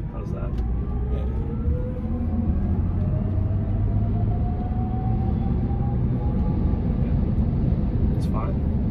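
A Tesla Cybertruck speeds up while towing a trailer, giving a steady low road rumble with a faint electric motor whine rising in pitch. The sound stays even and moderately loud throughout.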